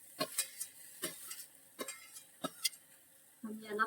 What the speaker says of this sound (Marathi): आता आपण यामध्ये टोमॅटो टाकून घ्यायचंय